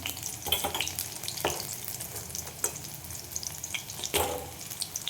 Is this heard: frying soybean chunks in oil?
yes